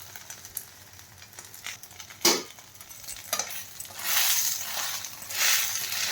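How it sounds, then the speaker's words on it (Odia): Pumpkin flower fritters coated in sesame fry in a little oil, giving a soft, steady sizzle that swells louder near the end, with a few sharp clinks of a utensil against the pan. "ଏମିତି ରାଶି ଦେଇକି ଭାଜିଲେ ବି ଆହୁରି ବଢ଼ିଆ ଲାଗିବ ଖାଇବା ପାଇଁ।"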